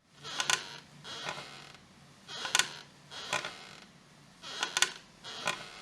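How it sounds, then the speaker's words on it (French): A wooden rocking chair creaks in a regular rhythm, six drawn-out creaks in paired back-and-forth swings, close and clear with no other sound, used as a sample in Jersey Club music. "c'est pas un bruit de lit qui grince. Non, non, en fait, c'est un bruit de rocking chair."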